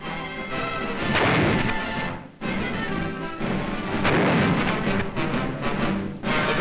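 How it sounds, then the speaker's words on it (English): Heavy army artillery fires in a gunnery demonstration during wartime, with deep booming blasts and rolling rumble filling the whole span, two strong surges about three seconds apart, loud and dense. "They see demonstrations of the excellent gunnery"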